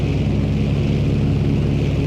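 A plane carrying a tail gunner drones steadily and loudly, an unbroken engine roar that fills the whole moment with no voices over it.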